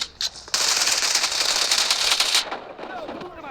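Grenade blast in the BGMI mobile game team deathmatch, a loud crackling burst lasting about two seconds after a few brief pops, with a voice chattering alongside in the game commentary.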